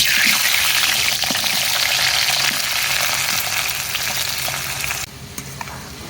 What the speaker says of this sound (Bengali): এবারে আলু ও গাজর কিছুক্ষণ তেলে ভেজে নেব